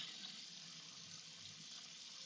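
Tap water running into dishes in a kitchen sink, a steady hissing splash that stays even and unbroken throughout, fairly close and alone without talk.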